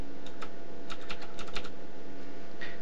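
Keys pressed on a Razer BlackWidow Ultimate mechanical keyboard: scattered clicky keystrokes in short bursts, a few quick taps in a row and then pauses, close and clear over faint room hiss.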